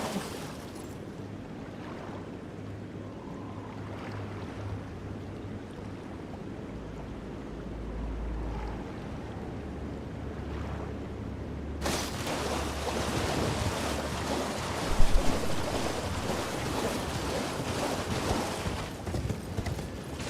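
Rushing water from a waterfall in the video game Elden Ring, a steady broadband roar that grows louder and fuller partway through, with a low ambient hum underneath and no voices.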